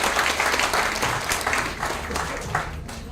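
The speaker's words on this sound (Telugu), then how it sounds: "చేద్దామంటే ఒకసారి గట్టిగా క్లాప్స్ కొట్టాయి" A crowd applauds steadily, dense clapping filling the room at an even loudness throughout.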